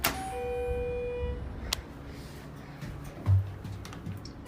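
Elevator call bell at Phipps Plaza, a single clear chime ringing out at the start and fading over a couple of seconds against a low hum of the building.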